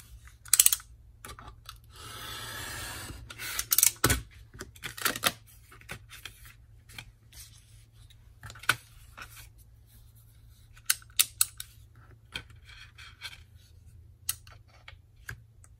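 Scissors snip through a sheet of scrapbooking paper in a series of sharp, close clicks and brief cutting strokes, with quiet handling sounds and a low hum in between.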